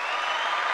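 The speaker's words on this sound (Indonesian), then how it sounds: "Makasih tepuk tangannya." A brief burst of audience applause at an Indonesian podcast taping, a dense wash of clapping hands heard for under a second with no voices.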